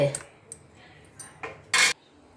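A jar of avakaya mango pickle is closed: a few sharp clicks and taps of the lid, then one louder, longer scraping clatter, each short and close with quiet gaps between.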